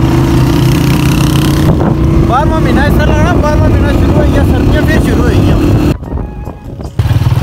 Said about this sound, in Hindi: मोटरसाइकिलों पर जा रहे हैं